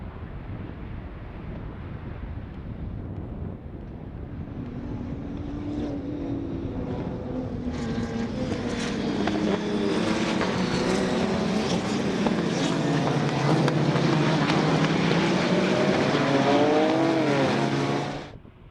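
BMW club race cars starting a race on a track, engines building from a rumble to a loud sustained roar with wind buffeting and rising, shifting revs as cars pass near, ending abruptly.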